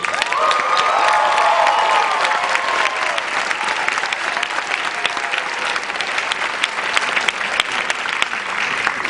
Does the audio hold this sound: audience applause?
yes